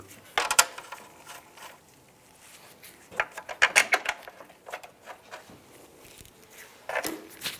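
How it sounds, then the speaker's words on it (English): Screws are started by hand into a car A/C condenser cover on a 2008-2017 Buick Enclave, giving sparse clusters of small metallic clicks and scraping rattles, close and quiet, separated by stretches of near silence. "Now I'll put these screws in, get them all started."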